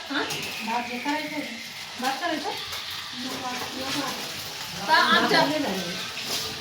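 Fish fry in hot oil at a family gathering. A soft, continuous sizzle hisses underneath people talking over it for the full length.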